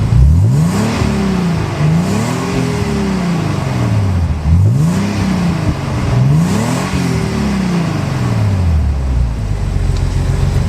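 A car with a Labree Motorsports 2+0 custom stainless steel exhaust, H-pipe resonator and 2.5-inch pipes, revs loudly and close on a warm engine, in repeated rising and falling pulls before settling to idle.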